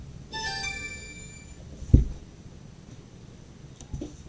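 A phone rings with an incoming call, a short tonal ringtone phrase, followed by a dull thump and then quiet room noise.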